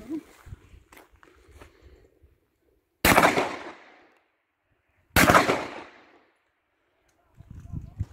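An ATA Arms Superpoze 12-gauge over-under shotgun firing slugs outdoors, two loud, sharp blasts about two seconds apart, each ringing out in a long echoing decay, with brief speech before and after.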